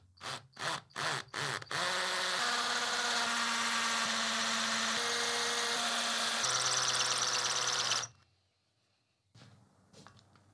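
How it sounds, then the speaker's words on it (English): Power drill boring holes into a steel sheep sculpture: several short trigger bursts, then a sustained whining run with shifting pitch that cuts off abruptly, followed by quiet and a few faint clicks. "So I've got to drill some holes and then resin all of these feet in."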